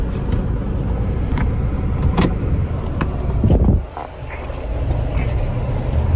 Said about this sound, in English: Yeah, it is definitely a busy street.